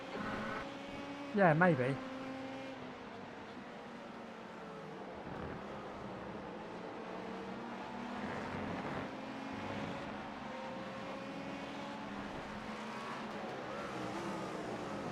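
A race car in iRacing during a six-hour special event at Watkins Glen hums steadily at moderate volume with a short sharp engine surge early on, while someone talks briefly over it.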